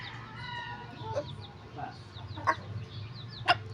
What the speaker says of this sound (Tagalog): Bitawan mo na yung chicken.